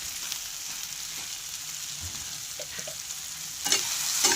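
Onion, tomato, chili and garlic sizzle in a pan with salt while a utensil stirs them, giving a steady close frying hiss with a few scraping strokes and a louder burst near the end.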